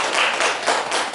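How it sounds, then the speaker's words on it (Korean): Members of a Buddhist meditation gathering applaud two people, a brief burst of many hands clapping together, dense and fairly close, with no voices over it. "우리 사마디 님하고 서티마님으로 박수 한번 쳐주세요"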